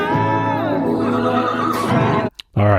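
A Clydesdale horse from a Budweiser advert gives a loud, close, drawn-out whinny lasting about two seconds, then a brief pause before a second neigh begins, with no talk over it.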